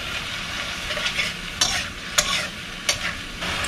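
Spices with turmeric and dry cumin being stir-fried in a pan with a splash of water for a Bengali jackfruit and prawn dish, a soft sizzle broken by several sharp scraping stirs, close and alone.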